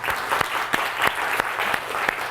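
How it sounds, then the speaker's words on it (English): Lecture hall audience applauding steadily, a sustained wash of many hands clapping with sharper individual claps popping out, no voices over it. "A round of applause for Timothy and for Abdul."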